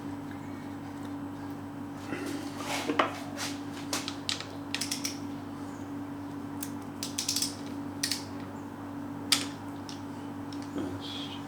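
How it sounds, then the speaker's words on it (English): Bolts are tightened by hand during bottom-end assembly of a Yamaha XV1000 Midnight Special engine, heard as a series of quick metallic ratchet clicks in short bursts over a steady low hum, faint and close. "Bolt goes in, and it's tensioned to 11 Newton meters"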